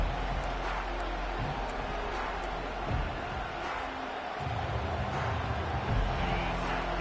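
Steady roar of a college football stadium crowd during a game, a dense continuous wash of massed voices at fairly even loudness with a few faint swells, heard at a distance.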